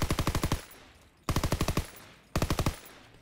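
Automatic video-game gunfire plays in three short bursts of rapid, evenly spaced shots, each burst around half a second long, loud and close, separated by brief pauses with no talking.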